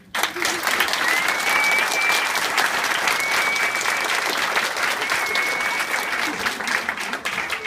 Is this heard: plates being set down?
no